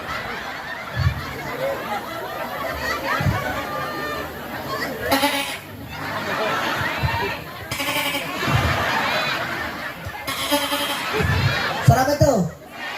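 A man imitates the bleating of a nursing baby goat with his voice before a live audience, repeated short wavering bleats spaced through his talking, with crowd chatter and laughter underneath.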